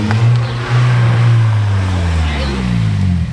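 A Toyota GR Corolla fitted with a new aftermarket exhaust rumbles close by, its deep note sliding gradually lower as the revs fall off, loud and steady, with people talking over it.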